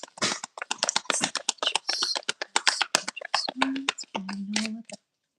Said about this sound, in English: let me do a few more shuffles and then I'll leave it